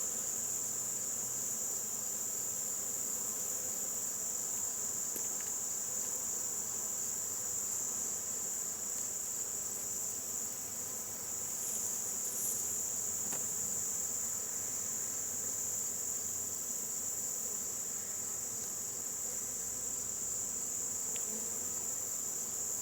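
Honeybees hum around the upper entrance of a hive in summer as field bees return with nectar, a steady, close drone with insect chatter over it and no talk.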